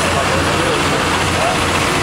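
A John Deere 6930 tractor roars at full load during a tractor pull, a loud, dense engine drone that stays steady and close for the whole moment.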